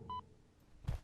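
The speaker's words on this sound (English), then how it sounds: "It sounds like an EKG machine is going beep" A short electronic beep like an EKG monitor tone sounds once in The Backrooms: Lost Tape game, faint and clean, followed by a brief low thump in a quiet space.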